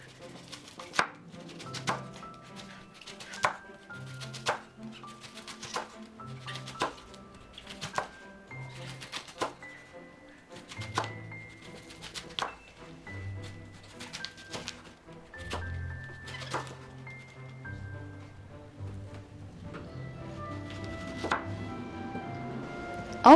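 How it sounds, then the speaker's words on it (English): A knife slices red cabbage into strips on a cutting board for a kimchi salad, crisp regular chops in a steady rhythm, close and clear, with the cuts growing quicker and softer toward the end. "Slice the 50 grams of red cabbage into strips."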